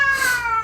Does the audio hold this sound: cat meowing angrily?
yes